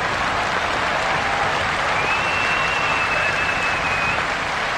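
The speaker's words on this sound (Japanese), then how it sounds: "拍手が ナインの素晴らしい戦いぶりを表しています。" Sustained stadium crowd applause at a year-2000 Japanese high school baseball game, Chiben Wakayama versus Yanagawa, a loud continuous wash of clapping from a large crowd throughout.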